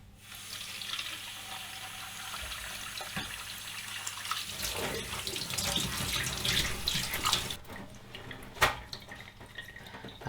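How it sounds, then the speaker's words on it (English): Cold tap water runs steadily over a Dyson V10 cordless vacuum part, a continuous hissing splash that grows busier midway, with a few sharp knocks and drips near the end. "just rinse it under cold water"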